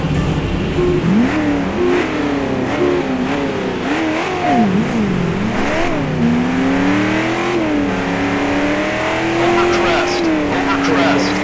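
A trophy truck in Jeremy McGrath's Offroad video game revs hard and continuously, its engine pitch climbing and dipping with throttle changes, loud and close, with faint tire noise beneath.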